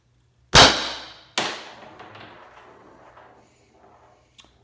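An Umarex HDP 50 pistol fired once indoors: a sharp loud crack followed by a second metallic bang and a ringing, slowly decaying tail, then a faint click near the end.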